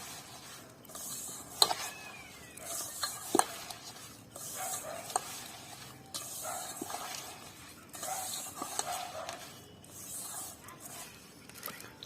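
Grated coconut worked together with sugar by hand or spoon for coconut biscuits, giving soft, irregular stirring and rubbing scrapes with a few light clinks, close and quiet with no talking.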